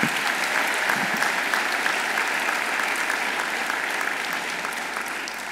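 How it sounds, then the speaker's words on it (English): Parents applauding at a university honors college scholars recognition ceremony, sustained dense clapping from a large seated audience in a hall, steady and full before easing slightly near the end. "parents, give yourselves a round of applause."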